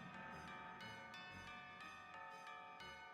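Chimes from the video game Final Fantasy Tactics ring out in bright, sustained bell tones, struck repeatedly in a regular rhythm with ringing overtones, with no talking.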